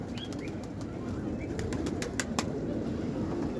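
Pigeons in a rooftop loft at night give soft low cooing and light bird calls over steady background noise, with a few brief sharp chirps near the middle of the stretch.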